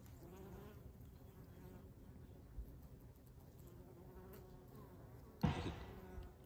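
Honey bees buzz steadily at a hive entrance, a close continuous droning hum, with a brief louder swell near the end as one passes near.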